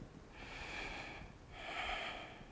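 Two slow, deep breaths during a yoga pose, each a long airy inhale-exhale heard close and alone.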